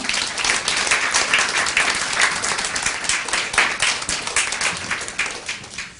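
An audience claps steadily to welcome the singer at a World Music Center public lecture, a dense, even wash of applause that holds its level for the whole stretch without any talking.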